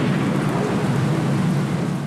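Heavy tropical downpour with a thunderstorm over the Amazon river, a dense steady roar of rain with low thunder rumbling underneath, loud and continuous throughout.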